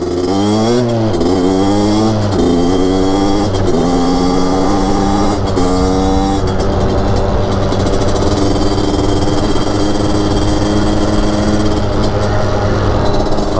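A moped fitted with a 72cc Airsal kit revs up in several rising bursts while riding, then settles into a steady, loud, buzzy two-stroke whine with no talking.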